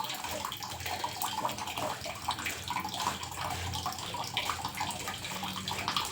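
A spoon stirs puri soaking in water, giving quiet, continuous sloshing and small splashing swirls close by with soft drips, and no voices.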